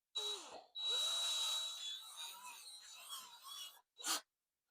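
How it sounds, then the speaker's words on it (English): A power drill whirs in short bursts, its motor pitch rising and bogging down as it drives a screw while assembling an IKEA Sniglar crib, close up, with pauses between runs. "Now I can use my power drill"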